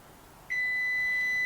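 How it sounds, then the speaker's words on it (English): A kitchen timer set for baking pumpkin dog biscuits starts beeping abruptly and keeps sounding as one steady, piercing electronic tone, loud and close, with no talk over it. "That's a timer for my dog biscuits"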